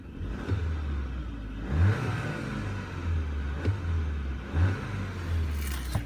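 A 2020 Audi A6 45 TFSI quattro's 2-liter inline-four revs in short repeated blips, a low rumbling drone that swells and eases several times, steady and moderately loud.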